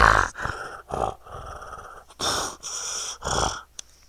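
A voice imitates heavy, rasping breathing in several loud bursts of wheezy inhale and exhale, with short pauses between them, close to the microphone.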